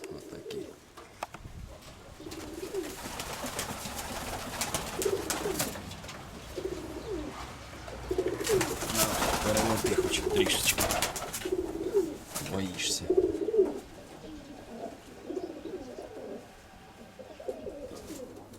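Pigeons cooing in a loft, a steady run of soft, low repeated coos close by, with a person talking intermittently over them.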